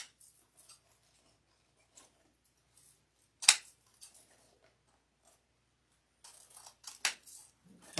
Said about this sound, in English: I'm just going to trim these down.